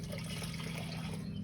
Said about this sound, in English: We're going to go ahead and add the water.